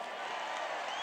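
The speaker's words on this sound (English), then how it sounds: "He's giving me applause before we..." A large crowd at a Trump rally in Wisconsin applauds and cheers in a dense, continuous roar that fills the whole moment without letting up.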